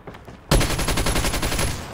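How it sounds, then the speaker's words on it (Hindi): Gunfire in a shooter video game: after a brief quiet start, loud, rapid automatic shots break out and keep going as a dense, rattling stream. "क्या गोलियां मारे जा रहे हैं इसमें।"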